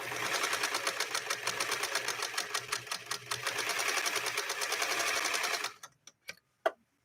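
A Mighty Spartan sewing machine top stitches carpet material with a fast, rhythmic mechanical chatter for several seconds, then slows to a few separate clunks and stops.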